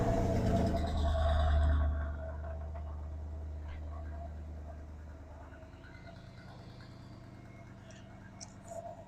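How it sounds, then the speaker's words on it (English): A Bentley engine started with the key catches with a loud, deep roar on first startup, then settles within a couple of seconds into a quieter, steady idle, with soft voices faintly audible. "one thing with these engines, they're very noisy on first startup"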